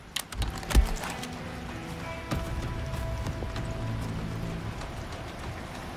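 Rain falling in the video game Resident Evil 4, a steady hiss of drops with a few heavy thuds and game tones near the start, continuing evenly throughout.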